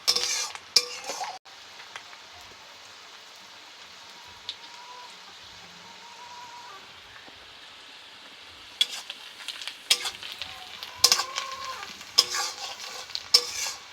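Ground onion paste goes into hot oil with cinnamon for an egg curry, giving a soft low sizzle with bursts of spoon stirring and clinks against the pot at the start and again near the end.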